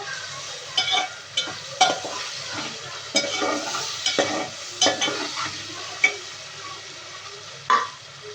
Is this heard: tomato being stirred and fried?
yes